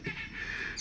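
A young chick chirping, a short thin tweet close by, brief and fairly faint.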